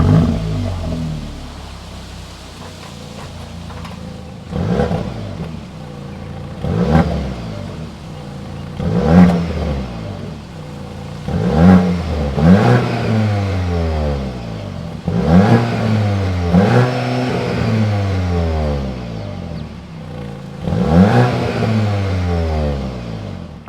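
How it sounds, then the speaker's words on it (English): A 2025 Audi S3's 2-liter turbocharged four-cylinder engine revs repeatedly, loud and close, with about eight sharp climbs that each fall back toward idle, growling through the quad exhaust tips. "that was the sound of the 2-liter turbocharged 4-cylinder engine sold by Audi for the 2025"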